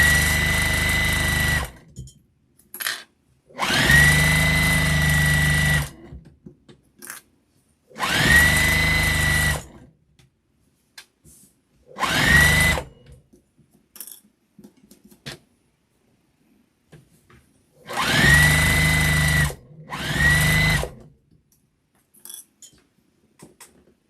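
A sewing machine stitches a flannel infinity scarf in several separate bursts of rapid mechanical whirring, each lasting one to two seconds, with quiet pauses and faint handling noises between them.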